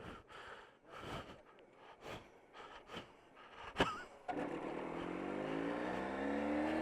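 A few sharp clicks and short bursts, then an engine roars up loudly and holds a high, rising whine, close by.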